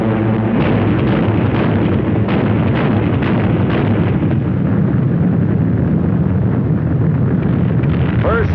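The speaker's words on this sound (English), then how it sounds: "the Germans drop heavy bombs on the city" Heavy German bombs exploding over London during a night raid in December 1940, a continuous loud roar of dense low rumbling blasts and bursts rolling without pause.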